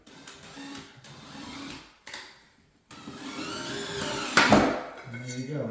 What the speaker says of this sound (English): Put ourselves a screw in.